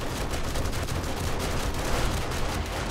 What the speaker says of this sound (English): Oh, and the shotguns do work.